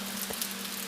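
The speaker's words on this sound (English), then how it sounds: "steady rain is the main sound" Gentle, steady rain patters through a calm Tokyo night, a soft continuous hiss with a faint steady hum underneath and a small knock in the middle.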